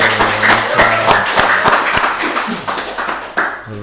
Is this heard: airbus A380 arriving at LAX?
no